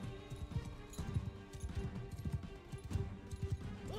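A horse is ridden in Mount and Blade 2: Bannerlord, its hooves clip-clopping in a steady galloping rhythm. A few faint metallic tones sit in the background, and no one speaks.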